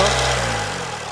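A 1.6-litre diesel car engine held at about 1500 rpm, running a little rough from its injectors, a steady close low rumble with a dense mechanical hum that eases slightly toward the end.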